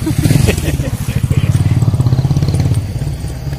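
A vehicle approaches and passes nearby at night, its engine throbbing loud and steady with a rapid pulsing rumble that fades slightly toward the end.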